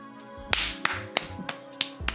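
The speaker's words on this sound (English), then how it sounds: "Sorry, that clap was really loud." Several sharp, loud hand claps ring out one after another at a fairly even pace, close by, with a faint musical hum underneath and no talking.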